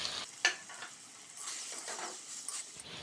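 Spice paste with fried potatoes and bitter gourd, cooking for a rohu fish curry, gives a quiet, intermittent sizzle with soft stirring scrapes and one sharp utensil clink near the start.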